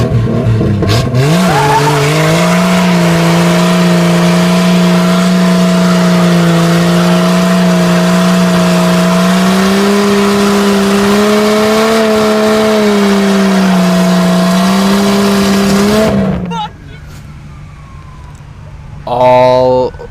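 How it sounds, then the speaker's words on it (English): A Subaru doing a burnout, its engine held at high revs as a steady loud drone with a tire squeal over it. The sound cuts off abruptly, followed by quieter noises and a short burst. "I did three big ass burnouts that night"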